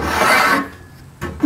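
A block plane shaves along a wooden paddle shaft in one long rasping stroke, then a second short scrape, close and clear with nothing else heard.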